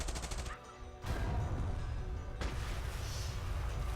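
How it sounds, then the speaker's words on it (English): 57mm anti-tank gun firing in a war film battle, heavy blasts and roaring combat noise filling the whole stretch, loud and dense. "The 57mm anti-tank gun killing the Stuk"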